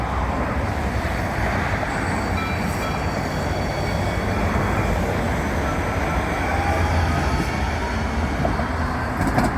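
A light rail tram pulls away from the Blossom Hill stop in San Jose, California, with a steady, loud, continuous rumble of wheels and motor.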